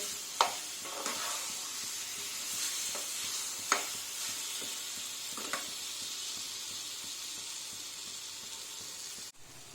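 Pumpkin pieces fry in mustard oil with a steady broad sizzle, while a spoon stirs and scrapes the pan in a few sharp, close clicks, no one talking.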